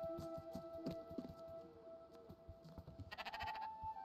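A sheep bleats in the video game Spiritfarer, a short wavering bleat near the end following softer squishy footstep-like game sounds, with no voices.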